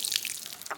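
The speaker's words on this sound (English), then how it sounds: "I'm going to water my containers where the tulips will be coming up at" Water splashing and pattering from watering flower containers planted with tulips outdoors in a garden, a soft hissing spray with scattered drips, fairly close and steady.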